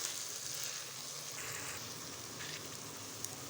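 Sugar roasting in hot ghee with wheat porridge for sohan halwa sizzles steadily on a low flame, a close, continuous frying hiss with faint stirring scrapes and no talking.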